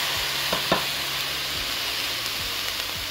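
Bottle gourd stems fry in a hot pan, giving a steady close sizzle with a few faint stirring knocks and no talk.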